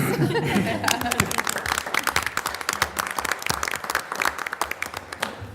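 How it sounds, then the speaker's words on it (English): A crowd at a school board meeting applauds steadily for children, with scattered chuckles and cheers mixed in, the clapping continuing throughout. "Now can we clap? Please."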